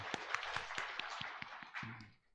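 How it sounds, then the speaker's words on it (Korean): A church congregation at a Sunday worship service claps in praise, a steady run of hand claps with sharp regular beats, fairly faint and tapering off at the end. "하나님께 찬양과 영광의 박수를 올려드리겠습니다"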